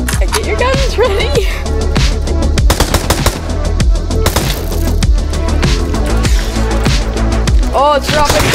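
Rapid video-game gunfire during a Blood Moon horde, loud bursts of machine-gun shots and single cracks coming in dense, continuous volleys with occasional thumps and brief voices.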